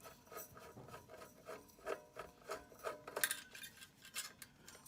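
A halogen bulb twisted out of a Le Morgan convection oven by hand, giving a series of short, quiet gritty rasps and scrapes at an uneven rhythm.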